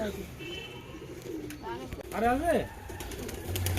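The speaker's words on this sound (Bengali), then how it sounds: "ভেতরে দেখতে পাচ্ছ পায়রা ভর্তি কবুতর ভর্তি আছে" Pigeons coo inside a large coop packed with birds, soft throaty rolling calls rising and falling close by, heard against a low background hum.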